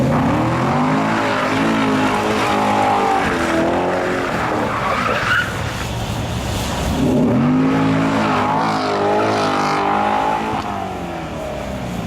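A Corvette Grand Sport doing donuts and burnouts: its engine revs hard and loud while the tires squeal and skid without a break, rising and falling in waves from start to finish.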